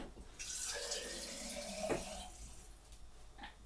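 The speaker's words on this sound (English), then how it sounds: "just literally put some water in this so that it all comes out and all the bit like at the bottom comes out" Tap water runs steadily into a container at a kitchen sink while chicken curry is being cooked, a close, continuous splashing stream that tails off near the end.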